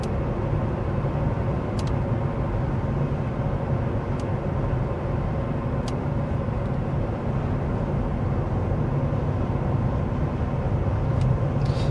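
Steady road and tire roar fills the cabin of a 2025 Tesla Model 3 Highland cruising at 55 mph, a dense low rumble with little variation and faint brief ticks, no talking.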